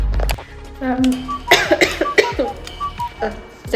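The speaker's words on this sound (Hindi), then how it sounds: "अभी खांसी आ रही है।" A woman at a study table coughs several times in quick succession, sharp close bursts mixed with throat clearing, while she also talks intermittently.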